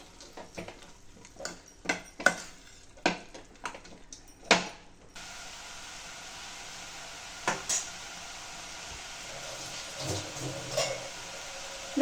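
A spoon scraping and clinking against a pan while cabbage beetroot poriyal with garam masala is stirred, a run of sharp intermittent clacks, then a steady hiss with a few softer scrapes.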